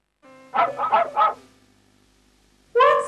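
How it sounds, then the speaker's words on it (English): A dog barks in a quick run of about four close, loud woofs, followed by a pause and one more bark. "What's this? It's a dog."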